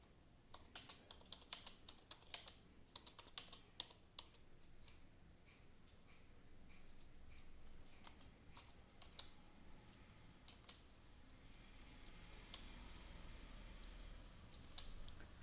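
Numbers are tapped out on a computer keyboard in short, quiet bursts of crisp clicks with brief pauses between groups, close by in an otherwise still room.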